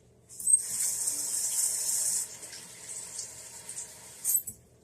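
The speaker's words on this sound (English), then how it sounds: "Rinse this spatula off a little bit." A spatula is rinsed under a running kitchen tap: a steady hiss of water starts abruptly, splashes and shifts as the utensil moves through the stream, then cuts off.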